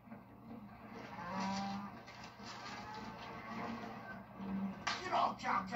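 A cow in a herd lets out a low, drawn-out moo near the listener, followed by a second short low call, with slapping knocks and other rustling noise around it.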